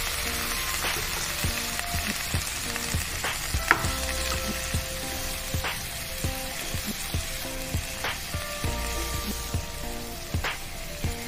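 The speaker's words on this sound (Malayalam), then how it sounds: "ഇനി അതിലേക്ക് നമ്മൾ പുളിവെള്ളം അതങ്ങ് ചേർത്ത് കൊടുക്കാം." Tamarind water sizzles in a hot pan while papaya thokku cooks, giving a steady close hiss of frying with a few stirring scrapes and knocks of a spoon against the pan, and no voices.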